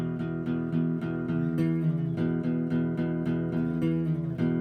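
An electric guitar plays a song's intro riff with sliding notes, not palm-muted, sustained, steady and fairly quiet, with no voices.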